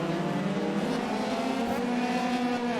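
F3 race cars on flying laps in the iRacing game give off a continuous, loud engine whine with steady, high-revving pitch shifts, several cars blending together without a break.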